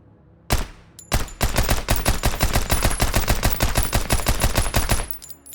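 Rapid automatic fire from an MP7 submachine gun chambered in 4.6x30 in the post-apocalyptic survival game Road to Vostok, a loud, steady burst of closely spaced shots lasting several seconds after one opening shot, with no talking.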